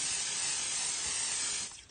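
SpraynBond stencil adhesive hisses from an aerosol can onto fabric in one continuous close burst that cuts off near the end, with no talking.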